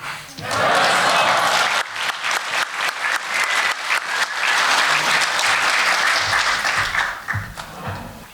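Audience at a 10-year anniversary gala for the Ukrainian charity Nova Ukraine breaks into loud, sustained applause after a speech, dense clapping filling the room for about eight seconds, with scattered voices mixed in and fading slightly at the end.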